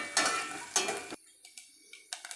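Coconut pieces frying in coconut oil for jaggery aval payasam, with soft sizzling and stirring scrapes in bursts, then a quieter stretch with faint crackle and a few light utensil taps.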